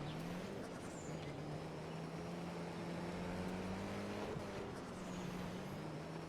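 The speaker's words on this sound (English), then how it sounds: "This car sounds very fast, too." Car engine driving in the HumanitZ video game, a steady low droning hum with faint harmonic whine held throughout at moderate distance, no talk over it.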